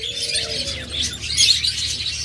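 A pair of caged lovebirds keeps up continuous high, busy chirping and twittering, close and fairly loud, over a faint low background murmur.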